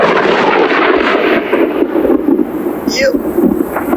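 A thunderstorm at a boat ramp, with a loud, steady roar of rumbling thunder mixed with wind and rain that fills the whole stretch, close and unbroken.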